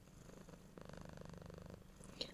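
A soft, steady purring is imitated by an ASMR performer as a contented cat, faint and close, rumbling evenly for a couple of seconds with a small click near the end.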